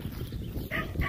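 A puppy shut in a cage on a farm gives a couple of short, close barks and yips in quick succession over low background noise.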